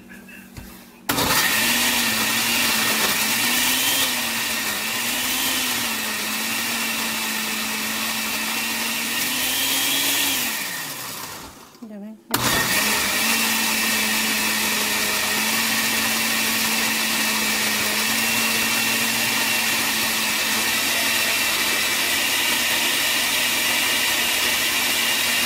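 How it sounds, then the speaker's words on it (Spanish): A kitchen blender grinds sauce ingredients for oven-baked beef enchilada in a steady, loud motor whir that winds down and cuts out near the middle, then starts again and runs on unchanged. "Voy a moler esto, ¿ok?"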